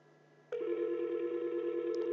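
A steady telephone keypad tone sounds after a brief click as the 1 key is pressed during an automated IVR menu call on a Yeastar S20 IP PBX system, holding continuously at moderate level to the end.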